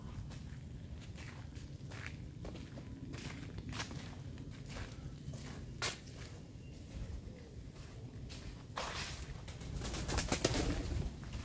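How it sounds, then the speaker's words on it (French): Pigeons coo softly amid faint shuffling and scattered taps, with a brief burst of wing flapping near the end, at Chartres Cathedral. "Oh, dans les pigeons, ça vole."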